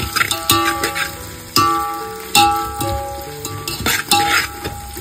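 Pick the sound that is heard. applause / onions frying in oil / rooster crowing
onions frying in oil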